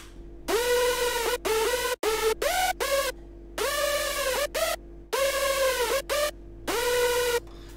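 Hardstyle top lead made with the Viper synth, loud bright detuned notes in short repeating phrases, each note swooping up with a pitch bend, over a steady low drone, with no talking.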